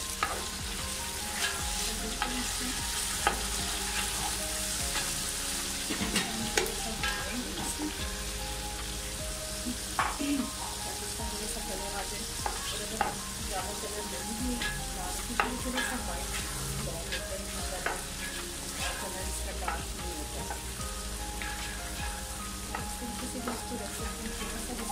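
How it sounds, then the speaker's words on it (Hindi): Ginger and garlic fry in a pot for beef pulao, a dense steady sizzle like light rain with frequent scraping and clinking stirs throughout, close and continuous, with faint occasional speech. "अदरक लहसुन भी भून गया है, अब मैं इसमें शामिल कर रही हूँ"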